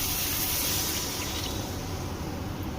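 Water gushes steadily into a cooking pan of egg dhoka curry with potatoes, a continuous close hiss of pouring with no pauses.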